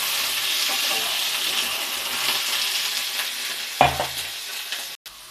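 Jackfruit and boiled potato fry in a pan with a loud, continuous sizzle, broken by a single metallic clink partway through.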